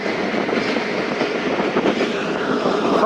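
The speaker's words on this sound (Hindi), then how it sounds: "फ़कीराबाद रेलवे स्टेशन स्टॉप कर रही है ट्रेन हमारी" Thal Express passenger train rolling along the rails, a steady loud rumble with faint clickety-clack of the wheels running throughout, no voices.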